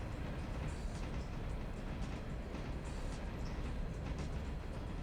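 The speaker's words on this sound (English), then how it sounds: "So we can slow the train for the station stop." A train slowing for a station stop in the railroad game Railroader: a steady low rumble of rolling wagons with faint rhythmic clatter, constant and fairly loud, no speech.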